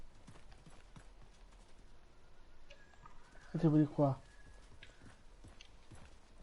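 Horse hooves in the Realm Royale game make a steady clip-clop of light rhythmic footfalls throughout, faint and under players' talking voices.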